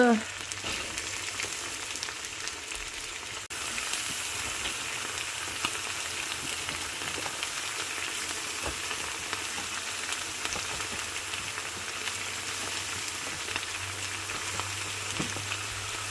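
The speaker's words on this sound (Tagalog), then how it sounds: "Lagay na po natin yung sayote guys." Chayote and chicken sauté in a pan, giving a continuous soft sizzle and crackle throughout, fairly quiet and steady with no talking.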